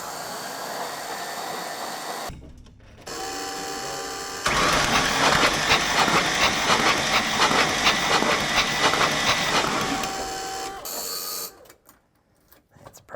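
A Ford F700 truck engine cranks over on the starter in a steady, rhythmic churn lasting several seconds, loud and close, with brief bursts of mechanical noise before and a pause after.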